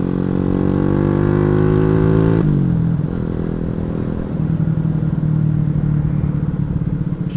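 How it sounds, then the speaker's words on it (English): A Boom Vader 125, a street-legal dirt bike, runs loud and close with a steady harmonic engine drone. The pitch drops sharply partway through as the revs fall, then settles into a rumbling idle-to-mid throttle hum. "Man, this bike sounds so good."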